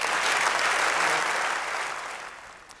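A burst of dense applause from an audience, loud at first and gradually tapering off over a few seconds.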